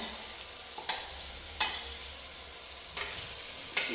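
Peas, cauliflower and chilli mixed with curd sautéing in a pan: a soft, low sizzle runs throughout, punctuated by four sharp metallic clinks of the spoon stirring, close by, with no speech.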